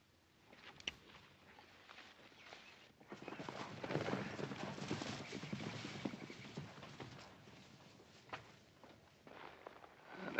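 Horses walk slowly over rough ground in a Western, giving an irregular clip-clop of hooves. Faint at first, it swells to a fuller trot-like clatter in the middle, with a few sharp knocks and some low background rumble.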